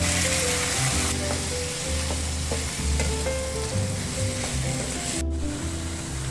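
Squid or octopus hits hot oil in a pan already holding garlic and onion, setting off a loud, steady sizzle and crackle that runs throughout, with occasional stirring clinks and scrapes, close and alone with no talking.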